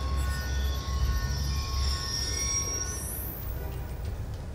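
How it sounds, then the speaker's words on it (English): A train rolls past in the Call of Duty Black Ops 2 campaign, a steady low rumble with wheels squealing in a high, drawn-out whine that rises toward the end. "Ain't getting anything else with that train in the way."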